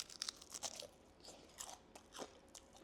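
Several sharp, crisp crunches from close up as a crispy roast potato is bitten and chewed, with irregular gaps between bites and no talking.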